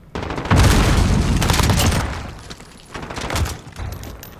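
A grenade blast in a Call of Duty esports match, a loud close boom with rattling gunfire that decays over about two seconds, followed by smaller bursts and shots.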